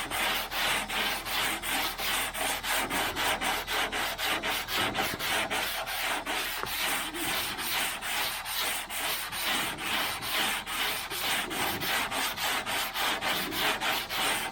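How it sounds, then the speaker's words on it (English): An 80 grit sanding block scrapes over Bondo body filler on a 1977 Malibu Classic in steady, rhythmic back-and-forth strokes, loud and close, with no talk. "you just go over it with a block with 80 grit"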